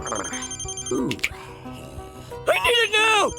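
A phone rings in a cartoon tavern, trilling bell tones at the start and again loudly near the end, with a shouting voice in between.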